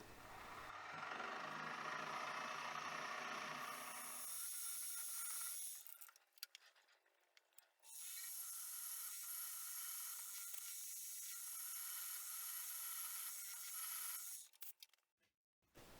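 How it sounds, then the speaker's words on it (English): A power drill with a 5mm bit whirs and grinds as it bores through metal for a hand vise, loud and close, in several bursts separated by short pauses. "So I've drilled with the 5mm drill right through"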